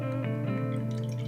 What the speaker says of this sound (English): So, let's pour this.